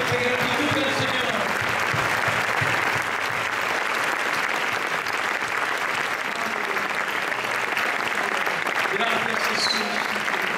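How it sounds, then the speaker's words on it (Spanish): A church congregation applauds at a Spanish-language gathering, giving dense, steady clapping that fills the hall for about ten seconds without a break, with a faint voice now and then underneath. "Dale un aplauso de gratitud al Señor"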